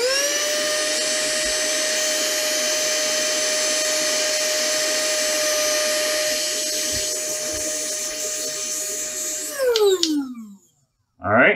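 A brand-new electric vacuum air duster blows with a loud, steady, high-pitched motor whine for about ten seconds, then winds down as it is switched off.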